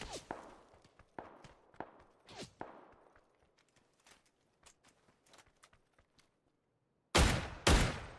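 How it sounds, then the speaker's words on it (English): Gunfire from another player in the PUBG video game: scattered single shots and short bursts at moderate distance with irregular spacing, then two loud close blasts near the end. "Is that that guy shooting me?"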